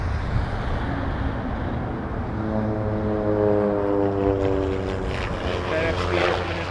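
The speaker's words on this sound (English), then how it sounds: "We're gonna get a nice heavy Air Canada 125 headed to Vancouver on a 777-200 LR departure." An Air Canada Boeing 777-200LR heavy jet departing runway 23 at Toronto Pearson, a loud steady engine roar with rising tonal whine, swelling as the aircraft powers up and moves past.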